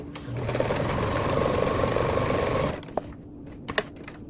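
A sewing machine bastes the top of a tote bag pocket closed with a narrow seam, a steady close whirr of rapid stitching for a few seconds that stops, followed by a few light clicks.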